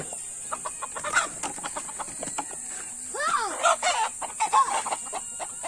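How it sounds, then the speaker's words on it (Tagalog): Hens cluck and squawk in a rising, agitated flurry on a small chicken farm, close by, with people talking between and over the calls. "Habulin mo yung babaeng manok doon."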